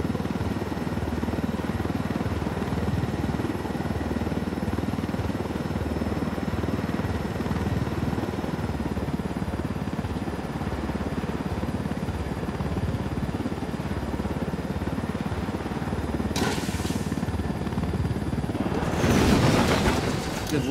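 A helicopter in Ghost Recon Wildlands drones with a constant loud rotor roar and low engine hum for the whole stretch, joined near the end by a brief burst of louder noise, with no talking.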